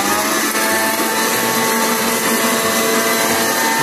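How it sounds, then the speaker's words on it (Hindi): A Bajaj electric mixer grinder grinding masala, running steadily with a loud, continuous high-pitched whine and motor hum, close by and unbroken throughout. "बजाज का मिक्सर है, बजाज कंपनी का मिक्सर है"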